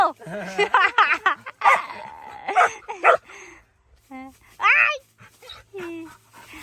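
Dogs bark loudly in short, irregular bursts mixed with whimpers and panting. Several people talk and call out between the barks.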